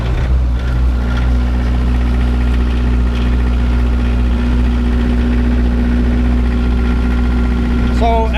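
Diesel camp generator for off-grid power running after cranking over, a loud, steady low engine drone with a constant throbbing hum close by.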